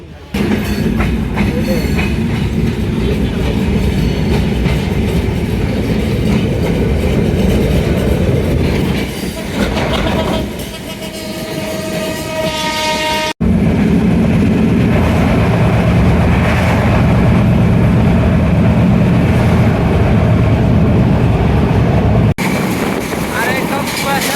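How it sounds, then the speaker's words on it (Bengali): A Dinajpur–Dhaka passenger train pulls away from Dinajpur station on a cold, foggy morning, its loud, steady rumble mixed with heavy wind buffeting the microphone and an abrupt break partway through. "দিনাজপুর থেকে ট্রেন অবশেষে ছেড়ে দেওয়া হলো"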